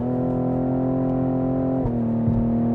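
A 2020 Cadillac CT5-V pulls hard with a steady engine drone, then its 10-speed automatic snaps through a quick upshift near the end as the pitch drops and climbs again, heard close and alone with no talk.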